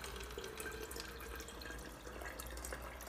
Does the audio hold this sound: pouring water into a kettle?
yes